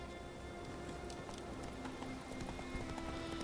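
Roach the horse gallops in The Witcher 3: Wild Hunt, steady hoofbeats clip-clopping under a constant wash of ambient game noise, close and continuous.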